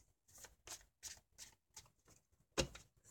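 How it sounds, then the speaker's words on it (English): Tarot cards shuffled by hand in a quiet room, a series of about seven soft riffling bursts at a steady rhythm, close and moderately quiet, with no talking. "The way these cards are shuffling."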